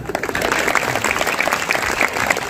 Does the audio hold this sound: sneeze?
no